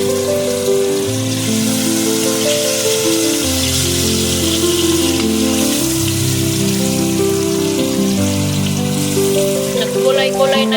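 Eggs frying in oil for an Indian-style egg curry, a steady, hissing sizzle like light rain, heard throughout beneath a loud melodic music track.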